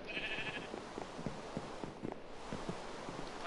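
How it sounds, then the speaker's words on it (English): Sheep bleating in the blocky video game Minecraft, a short clear bleat near the start over a steady bed of soft, irregular footstep-like taps and game ambience. "the sheep's going over to me."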